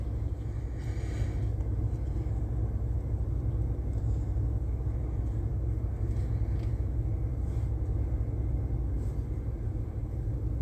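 Air conditioner running inside a parked van gives a steady, unbroken low rumble and broadband hum, fairly loud and constant throughout with no talking over it.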